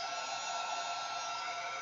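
A hair dryer blowing on a 3D mixed media canvas, a steady close whooshing hum with no breaks or talking.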